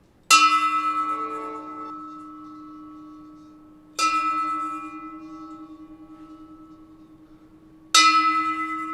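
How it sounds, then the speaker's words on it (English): A nearby church bell tolls a funeral knell in a village, with three loud, resonant strikes about four seconds apart, each ringing out and slowly decaying before the next. "a nearby church bell was tolling a funeral knell."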